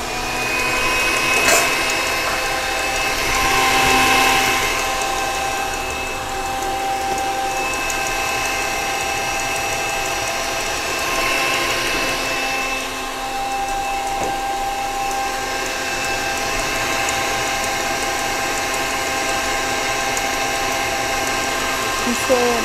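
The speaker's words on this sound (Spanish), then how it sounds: "vamos a batir las claras. De nuevo, y estas las tenemos que dejar montadas a punto de nieve." An electric hand mixer whips egg whites to stiff peaks in a pastry workshop, holding a steady buzzing whir for a long stretch with small shifts in pitch as the beaters move through the bowl.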